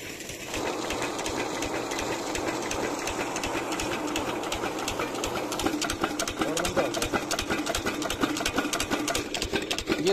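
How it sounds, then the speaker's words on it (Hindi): A small engine runs to pump irrigation water, giving a fast, steady mechanical chatter with rapid ticking pulses that carries on for the whole stretch at moderate distance. "तो यहाँ पर भी इंजन चल रहे हैं।"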